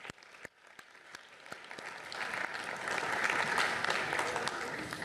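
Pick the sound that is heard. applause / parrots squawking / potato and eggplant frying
applause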